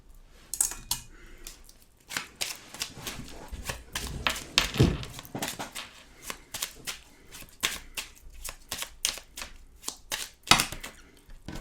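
Oracle cards are shuffled by hand in a steady run of crisp, riffling slaps and flutters, close and fairly loud, with brief pauses between bursts.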